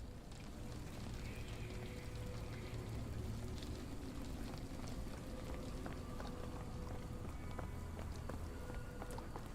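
Steady rain falls in a dark setting in the video game Sherlock Holmes The Awakened, a faint continuous hiss with scattered drips and what sound like footsteps.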